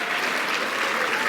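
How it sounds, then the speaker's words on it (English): A brief burst of dense audience applause at an awards gala, steady and full throughout. "please, a round of applause."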